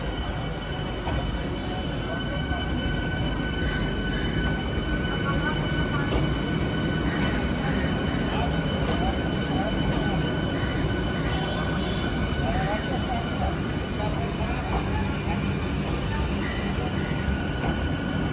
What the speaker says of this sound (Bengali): আমাদের এসি লোকাল প্রবেশ করছে রানাঘাট জংশনের 5 নম্বর